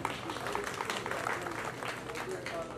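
Audience applause at a workshop gathering: a quiet, steady patter of clapping from a crowd, lasting the whole stretch with no one speaking over it.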